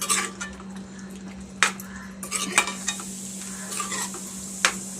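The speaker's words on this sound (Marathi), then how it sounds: "पुन्हा एकदा आपण हे परतून घेऊया." Salted Malvani-style black peas curry masala is stirred and sautéed in a pan: a spoon scrapes and clinks against the metal over a soft sizzle, with a few sharper taps, all close up over a low steady hum.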